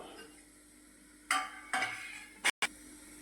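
Hot ghee in a pan as jaggery is added and stirred for churma ladoo, with a few loud bursts of scraping and sizzling separated by quieter moments, close by.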